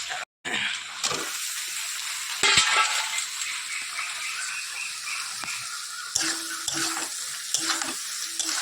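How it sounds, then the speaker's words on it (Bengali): Soya chunks fry in a pan with oil, giving a close, steady sizzle broken by repeated scraping stirs and a few louder clatters of the utensil against the pan. No voices are heard. "একটুখানি লাল লাল করে ভেজে নিই সয়াবিনটাকে।"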